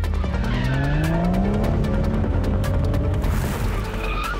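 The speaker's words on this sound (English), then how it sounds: "They will be driving the stunning beast, Audi S5." An Audi S5 on MRF Perfinza tires drives hard on a track, tires squealing in rising, sliding tones over a loud, continuous engine roar, with no voices.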